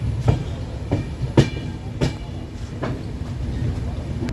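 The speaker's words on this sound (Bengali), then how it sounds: "ইরোড ছেড়ে দিচ্ছে ট্রেন" A train pulling out of Erode station in Tamil Nadu, its wheels beating a steady clickety-clack rhythm over rail joints with a rumbling undertone, close and fairly loud, with no voices.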